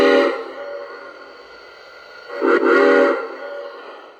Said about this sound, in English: if you want to give it one short whistle blast, you get like this weird automatic second whistle